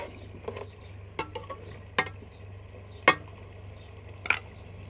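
Potatoes for aloo pulao fry in a pot with a steady, soft sizzle, broken by several sharp stirring scrapes and clinks spaced about a second apart.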